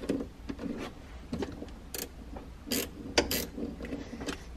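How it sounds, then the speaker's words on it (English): A 10 mm ratchet loosens the negative battery terminal on a 2015-or-later Jaguar XE, giving faint, close clicking with irregular pawl ticks and a few sharper metallic snaps in a quiet setting. "So now we have a 10 millimeter to undo the negative connection."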